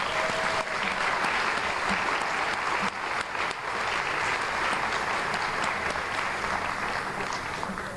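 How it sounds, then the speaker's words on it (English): Sustained applause from a large crowd at an alumni banquet, steady and dense for the whole stretch, with no voices standing out. "If we give these kind folks one more round of applause"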